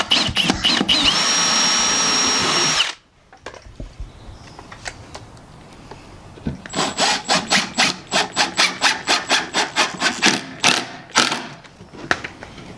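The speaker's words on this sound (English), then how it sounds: "now pre-drill and mount" A power drill whines steadily into wood, stops, then returns as a rapid series of rhythmic grinding bursts as it bites in.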